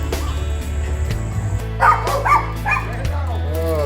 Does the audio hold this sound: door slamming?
no